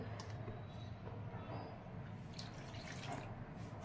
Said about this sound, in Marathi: त्याच वाटीने मोजून दोन वाट्या मी पाणी यामध्ये घालतीये